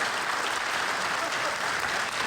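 A television talk show studio audience claps, a steady, loud, even burst of applause throughout with no pause.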